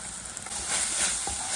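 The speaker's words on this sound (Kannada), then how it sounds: "ಇದು ಒಳ್ಳೆ ಹುರಿಬೇಕು, ಹೀಗೆ ಮಾಡ್ತಾ ಇರಬೇಕು, ಇಲ್ಲದಿದ್ದರೆ ತಳ ಹಿಡಿತದೆ" Onion paste for rajma sizzles steadily in a hot pan while a spoon stirs it, a continuous close hiss with faint scraping strokes and no talking.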